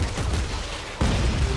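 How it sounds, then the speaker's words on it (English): Gunfire in the sci-fi horror video game Dead Space 3, aimed at a necromorph's legs, with a sustained roar of shots that swells sharply halfway through. "Now shoot off his legs, and don't shoot his belly."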